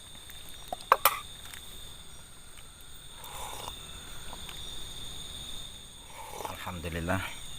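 Frogs croak faintly near water at night in a wild forest camping spot, a soft sustained chorus running beneath insect hum, a few sharp close knocks, and someone talking quietly.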